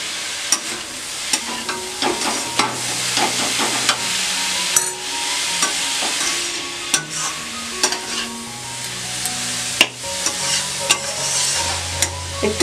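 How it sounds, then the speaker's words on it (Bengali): Radish pieces sizzle in the leftover oil of a wok after frying fish, with a steady frying hiss and repeated clinks and scrapes of a spatula stirring, close and loud with no talking. "কড়াইয়ে যতটুকু তেল আছে ওই তেলটাতে আমি মূলোগুলো একটু সাঁতলিয়ে নেব"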